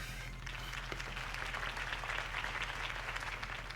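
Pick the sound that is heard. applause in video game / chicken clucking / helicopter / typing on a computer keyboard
applause in video game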